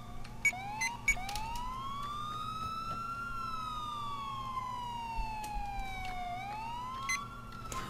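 A wailing police siren from Grand Theft Auto IV rises and falls steadily in long sweeping cycles, loud and continuous, with a low engine rumble underneath.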